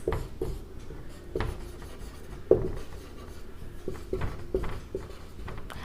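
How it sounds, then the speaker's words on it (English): Marker or chalk strokes on a classroom board, scratchy rubbing bursts with small taps and pauses between strokes, close and fairly quiet. "I am just writing some example."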